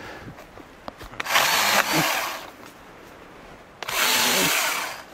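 A light handheld power tool makes quick cleanup cuts through small, troublesome tree branches, with two loud sustained bursts of cutting near and close after a few scattered knocks; a man swears briefly at the start.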